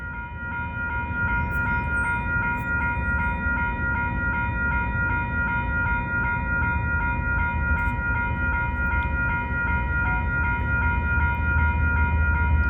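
A CPKC freight train runs past on the line near Leaside in the early morning, a loud continuous rumble with steady tonal wheel and engine whine holding for the whole stretch, close and alone.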